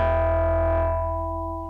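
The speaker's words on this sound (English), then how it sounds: "There's a little bit of distortion." A slightly distorted sustained tone from a Nord Micro Modular synthesizer, buzzy and steady with a strong low hum beneath, holding evenly then fading gently, alone without talk.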